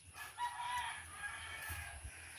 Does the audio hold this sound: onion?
no